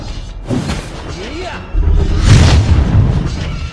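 Turret destruction in Mobile Legends, a heavy booming impact at about half a second followed by a louder, sustained crash and rumble, with game effects layered throughout and no talking.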